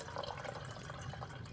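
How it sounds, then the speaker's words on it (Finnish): Water pours steadily into a coffee pot beside a campfire outdoors, a continuous splashing fill with no voices over it. "ensimmäiseksi lisätään kahvipannuun vesi, joka sitten kiehautetaan tuossa nuotiolla."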